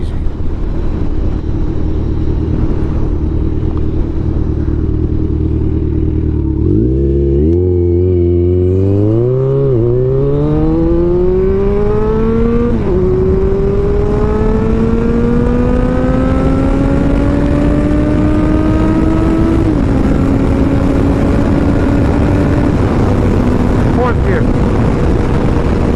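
Kawasaki Ninja 1000 motorcycle, a 2016 model with 16,000 miles, ridden in sixth gear: the engine note climbs steadily in pitch through a long roll-on, loud and close over constant wind rush.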